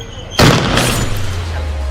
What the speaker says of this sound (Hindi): अभी हम इस पोटैटो कैनन को चलाने वाले हैं